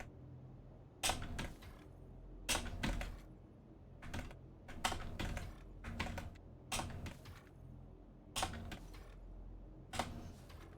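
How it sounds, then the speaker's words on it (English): Fingers type on a computer keyboard in bursts of rapid clicking, separated by short pauses, close and distinct in a quiet room with no voices. "Oh, now you can hear the keyboard,"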